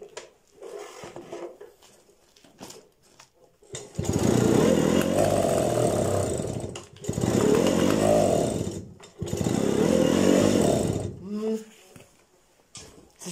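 A Jawa 50 type 551 Jawetta moped with a clogged carburettor, left standing for two years, is cranked and its small two-stroke engine sputters into three loud, rasping bursts that die away, with a voice talking before.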